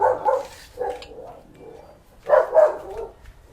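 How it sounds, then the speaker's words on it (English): A dog barking indoors, a few muffled, somewhat distant barks in uneven bursts with a pause in the middle, heard alone. "Why is my dog barking?"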